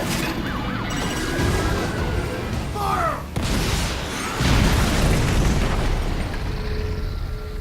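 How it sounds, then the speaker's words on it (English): Loud booming video game explosions and crashing bursts over a dense roar, with a rising synthetic whine in the middle and a heavy impact later, from Metal Gear Rising: Revengeance. "Microwave explosions!"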